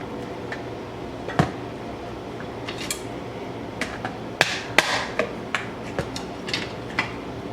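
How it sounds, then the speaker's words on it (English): Wonder quick-mixing flour being whisked into gravy in a pan, heard as irregular sharp metallic clinks and taps of utensil against pan over a soft background, some strikes louder than others. "So as I'm shaking the Wonder in, I'll keep mixing it."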